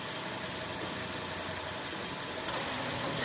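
A fourth-generation Toyota Vios with dual VVT-i has an RPM surge fault. Its engine runs close with a steady, high whining hum, shifting slightly near the end.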